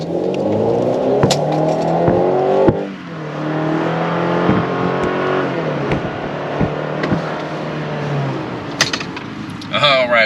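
A 2022 Chevy Silverado Custom pickup with a four-cylinder engine accelerates hard from a standstill, its engine note rising through several gear changes, loud and close, with a few sharp clicks and knocks over the roar.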